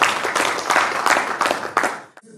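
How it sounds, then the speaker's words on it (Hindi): Audience applauding for two families at a Hindi motivational business seminar, a dense burst of clapping that runs steady for about two seconds and then breaks off abruptly into quiet. "एक बार जोरदार ताली हो जाए इनके लिए"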